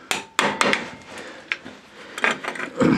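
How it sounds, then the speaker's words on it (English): Hammer tapping a rusted-in brake bell crank on a 4Runner, a handful of sharp, close metallic knocks spaced irregularly with brief rubbing and scraping between them. "Let me grab my hammer. I'll just tap this a little bit here"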